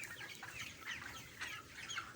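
Broiler chickens about 29 days old in a poultry shed, clucking softly and repeatedly in short overlapping bursts, a quiet flock murmur with no talking.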